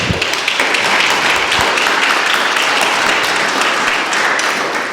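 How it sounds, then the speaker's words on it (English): An audience at a talk on innovation tools applauds steadily, a loud, dense wash of clapping held for several seconds. "All right, how about another round of applause?"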